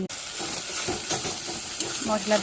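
Spice paste fries in a pan, giving a continuous sizzle broken by soft scraping stirs throughout, with a faint voice speaking near the end.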